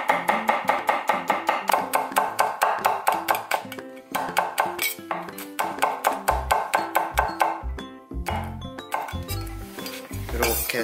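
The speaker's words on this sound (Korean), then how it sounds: "청양고추도 마찬가지로 송송 썰어주세요." A knife chops Cheongyang green chili peppers into thin rounds on a cutting board in a home kitchen, a fast, steady run of sharp close taps with a few brief pauses and bumps between strokes.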